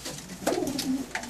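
Small-bodied racing pigeons coo up close in one short rolling, throaty call.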